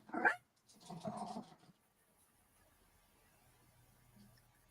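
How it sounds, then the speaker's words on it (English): Dogs in a home barking at a distance behind an open microphone: a sharp bark followed by a rougher, grumbling burst of barking, then fading into near silence with faint room noise. "Sorry, my dogs were barking or whatever."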